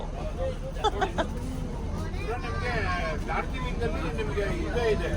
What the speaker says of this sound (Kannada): ಡೀಸೆಲ್ ಇಂಜಿನ್ ನೋಡಮ್ಮ ಹೆಂಗ್ ಕೇಳಿಸ್ತಾ ಇದೆ